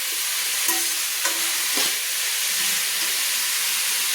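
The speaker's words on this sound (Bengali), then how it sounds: "মাঝারি ফ্লেমে আমি কিন্তু সবজিগুলো ভেজে নিচ্ছি" Cabbage and mixed vegetables stir-frying over a medium flame for chowmein, a steady loud sizzle with a few scraping stirs near the start, no voices.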